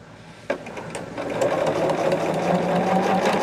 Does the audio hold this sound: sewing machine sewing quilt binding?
yes